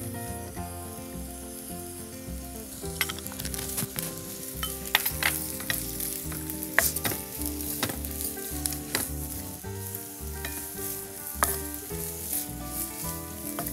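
Sliced onions sizzle and sauté in hot oil for a Kerala-style beef curry, a dense continuous crackle with frequent sharp pops and stirring scrapes, close and fairly quiet.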